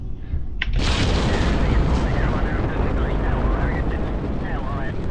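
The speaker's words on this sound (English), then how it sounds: "These solid rocket boosters are really going to be doing quite a bit of work" Solid rocket boosters ignite at launch in Kerbal Space Program, breaking into a sudden, loud, sustained roar that fills the rest of the moment.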